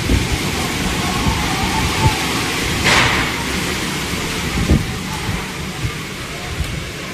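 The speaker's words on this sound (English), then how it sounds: "the storm area received more than 115 millimeters of rainfall in less of 24 hours" Heavy rainstorm in Europe, a dense continuous roar of rain with low rumbling and a few sharper gusts or cracks, loud and steady throughout with no voices.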